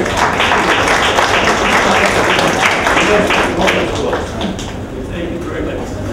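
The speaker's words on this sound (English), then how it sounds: "So let's give them a good cheer." Audience applause with some cheering at a Lynnfield Historical Society talk, dense sustained clapping filling the room before easing off near the end, with voices mixed in.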